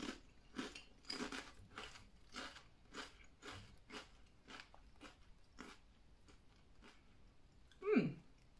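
Crunchy garlic chips being bitten and chewed close up, a steady series of sharp crisp crunches roughly twice a second, quiet and alone with no talk, ending in a brief louder rustle.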